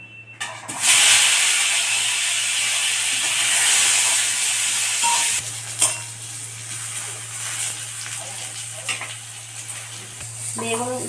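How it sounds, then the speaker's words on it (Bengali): Eggplant slices hit hot oil in a wok with a loud burst of broadband sizzling that fills the first half, then settle into a steadier, quieter frying hiss with occasional clinks of utensils against the pan, and a low hum runs underneath throughout. "এবার আমি বেগুনগুলোকে ভেজে নেব।"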